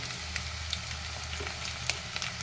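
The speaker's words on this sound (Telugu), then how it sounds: "ఇప్పుడైతే ఇది ఫ్రై అయింది కాబట్టి వంకాయలు వేసుకుంటున్నాను" Eggplant pieces sizzle steadily in oil in a pan, a continuous close frying hiss with a few faint clicks and pops scattered through it, no voices.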